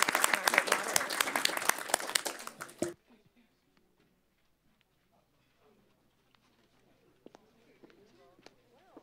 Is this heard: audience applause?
yes